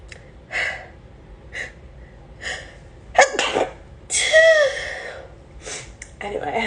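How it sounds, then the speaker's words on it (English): A single sharp human sneeze bursts out loud and close, preceded by several short breathy inhales and gasps, in a quiet indoor setting. "I'm going to sneeze."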